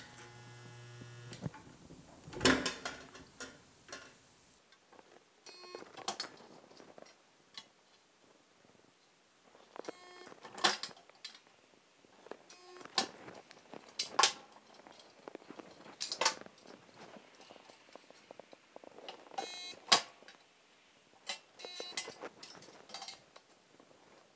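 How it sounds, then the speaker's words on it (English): A spot welder joins clamped metal in short, sharp bursts, each a brief buzzing zap separated by pauses and faint handling clatter over a low hum. "So let's go ahead and get this thing spot welded."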